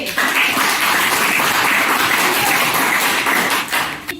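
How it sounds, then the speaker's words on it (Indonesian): A classroom audience applauding a student discussion group after their presentation, a dense, even wash of clapping held at steady loudness before fading at the end. "tepuk tangan dulu untuk kelompok B"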